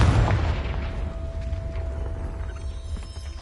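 A Confringo fire spell bursts in Hogwarts Legacy with a loud low boom at the start, its rumble trailing off under a thin steady tone and scattered game effects.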